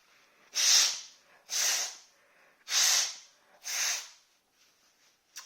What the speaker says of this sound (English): blow your nose a couple of times and properly